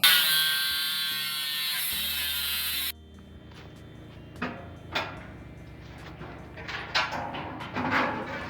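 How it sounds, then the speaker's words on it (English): An angle grinder cutting a hole in the steel tongue of a tiny-house trailer gives a loud, bright whine for about three seconds, then shuts off, leaving scattered knocks and metallic clatter at moderate distance. "I'm going to cut it out with the grinder this time."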